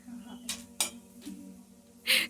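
A spoon scoops up chocolates from a bowl in a children's game. Several sharp metallic clinks and scrapes sound close by over a low background hum, with a brighter clatter at the end.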